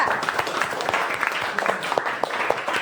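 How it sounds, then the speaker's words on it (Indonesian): A classroom of students claps for a group, a steady patter of applause with scattered individual claps, fairly close and continuous throughout. "Beri aplaus untuk kelompok 2."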